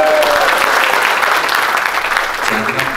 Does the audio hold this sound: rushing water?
no